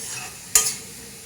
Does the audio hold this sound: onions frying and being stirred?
yes